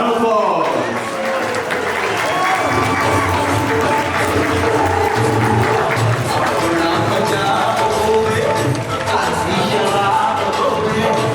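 Wedding guests at a Valima reception clapping in a sustained, dense round of applause, loud and close, with a voice talking over the crowd at times.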